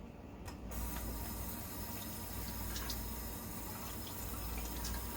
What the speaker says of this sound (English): So what I'm gonna do is actually run this under water.